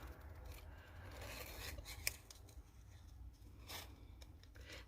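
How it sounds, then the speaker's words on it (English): Scissors snip and rasp through paper card for a handmade card, a close, steady run of cutting and rubbing strokes with one sharp snip near the middle. "It's better to twist the paper than your scissors."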